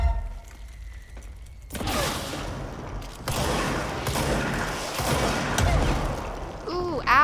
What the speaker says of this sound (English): Can't you see I'm shooting things here?